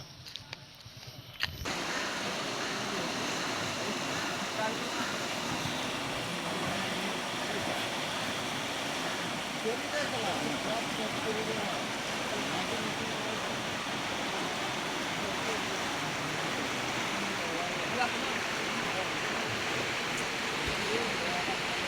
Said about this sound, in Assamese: কিমান জোৰত নদী বৈ আছে